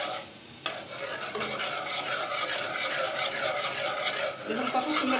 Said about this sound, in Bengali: দেখুন এভাবে কন্টিনিউ নাড়তে থাকতে হবে